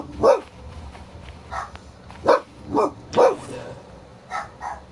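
A dog barks in several separate bursts at an uneven pace, moderately loud and a little distant, with quiet background noise between the barks.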